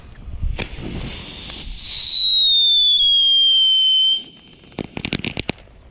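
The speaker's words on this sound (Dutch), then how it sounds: "Die witte knetterfontein" A white crackling fountain firework, a category 1 consumer type, lets out a loud high descending whistle that lasts a few seconds, followed by a quick cluster of sharp crackling pops.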